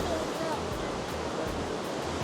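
Broadband rushing water from waterfalls in a wet, dripping gorge in the Bavarian Alps, a steady close roar with no break across the whole stretch, with a faint hint of a voice under it.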